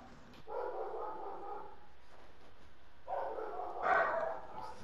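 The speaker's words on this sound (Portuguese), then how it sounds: "Cala a boca, cachorro do vizinho!" A neighbor's dog barks in GTA 5 Online, coming in two bursts of rapid barking, the first from about half a second to two seconds and a louder second burst after three seconds, with no talk over it.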